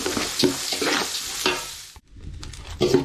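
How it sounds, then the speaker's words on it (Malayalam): Rice dry-roasting with ground spices in a pan for a vegetable biryani made from ration rice, giving scraping, stirring rustles and a light sizzle in uneven bursts, briefly pausing near the end before resuming. "ഒരു പത്ത് മിനിറ്റ് ആയിരുന്നു ഇങ്ങനെ വറുത്തെടുക്കാം"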